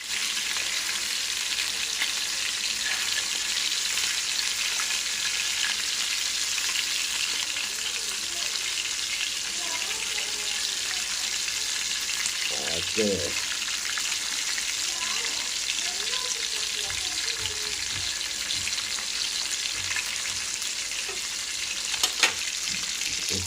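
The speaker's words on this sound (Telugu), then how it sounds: "సో ఇలాగా మనం ఫ్రై చేసుకుంటా ఉండాలన్నమాట తిప్పేసుకుంటూ కాల్చుకోవాలి" Fish sizzles steadily in hot oil in a pan, a continuous loud frying hiss with a few soft clatters as the pieces are turned, and a sharp knock near the end.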